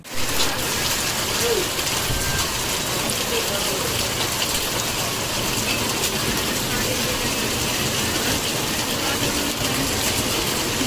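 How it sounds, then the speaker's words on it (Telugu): Steady, dense cyclone-driven heavy rain hisses across the whole stretch at a constant level, with a low rumbling undertone and no clear voices. "భారీ వర్షాలు కురుస్తున్న పరిస్థితి"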